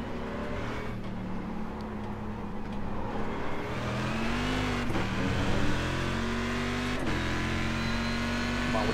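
A Corvette race car engine in iRacing, racing the Homestead road course, drones loud and close and climbs steadily in pitch as it accelerates. Brief dips mark gear shifts, and there is no talk.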